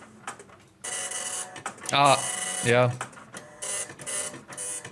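Dot matrix printer on roll paper played back as a recording, giving buzzy bursts of rapid mechanical printing that start and stop several times, with a brief spoken interjection partway through.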